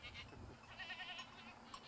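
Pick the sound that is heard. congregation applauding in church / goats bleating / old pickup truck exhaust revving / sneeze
goats bleating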